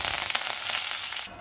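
Mustard seeds, urad dal, chana dal, dried red chillies and curry leaves tempering in hot oil give a dense, steady crackling sizzle with scattered pops, close and loud, cutting off abruptly near the end.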